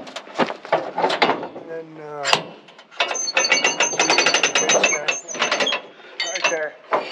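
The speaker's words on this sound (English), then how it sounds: "Crank the dial" A dial on a rappelling rig is cranked through its ratchet mechanism, giving a close, loud run of fast clicking that starts, pauses and resumes, with someone talking briefly over it.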